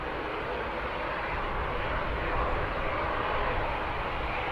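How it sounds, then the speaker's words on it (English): Aircraft at Birmingham Airport, a steady, broad engine roar that holds constant and fairly loud for the whole stretch, with no talking over it. "is that Julie's flight there"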